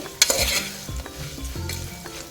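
Jackfruit seeds frying in oil with salt and garam masala, with a stirring clatter near the start and a steady low sizzle running through the rest, close and fairly quiet, no voices.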